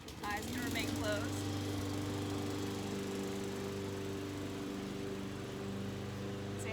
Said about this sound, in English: Say hi to your neighbor that's mowing their lawn.